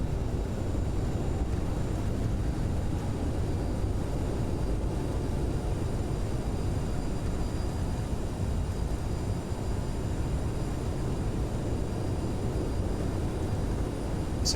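CRJ 900 jet airliner in MSFS 2020 with reverse thrust deployed after landing, a steady, loud, broadband engine roar and rushing wind noise holding constant throughout without pause.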